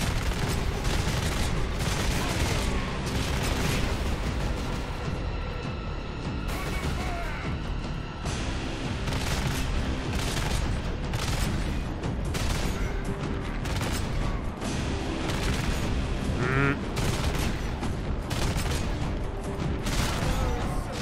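Intense gunfire and explosions in the video game Warhammer 40,000: Space Marine, including laser sniper rifle shots, form a dense, loud, unbroken barrage of blasts and crashes running throughout.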